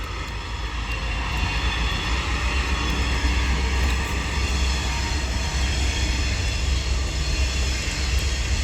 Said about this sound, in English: It's a train.